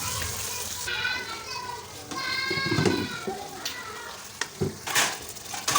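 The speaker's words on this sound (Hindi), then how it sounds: "ऑयल हमारा गर्म हो चुका है तो इसमें शामिल कर दूंगी मैं 2 मीडियम साइज़ के प्याज" Two medium onions ground to a paste hit hot oil in a pan, giving a steady crackling sizzle with bursts of spatter, while a faint voice drifts in at moments.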